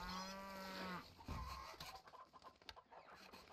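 Cattle mooing at a cow farm in the strategy game Stronghold Definitive Edition: one long, loud moo with a harmonic tone opens, followed by a second lower call. Clucking chickens and general farm ambience continue underneath.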